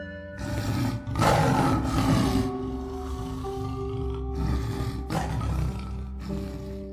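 A tiger lets out two deep, rumbling roars with a grunting growl between them, loud and close.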